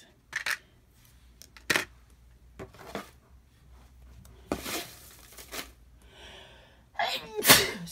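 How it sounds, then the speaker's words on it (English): A single loud, sharp sneeze near the end, close by, following a few quieter rustles and handling clicks while art supplies are unpacked. "I had to sneeze."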